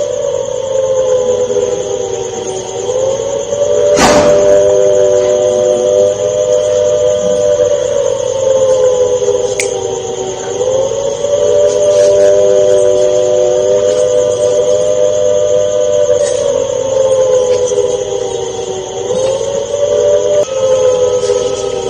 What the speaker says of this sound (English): sirens are ringing in Punjab's Firozpur as well